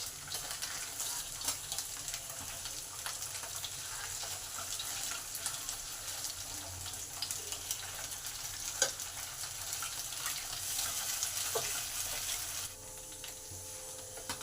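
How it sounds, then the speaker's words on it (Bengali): Steady oil sizzle of soft pabda fish frying in a pan, a continuous crackling hiss with small pops throughout, close and fairly loud, with no voices. "মাছগুলো হালকা করে ভাজা হবে, খুব কড়া করে ভাজা হবে না"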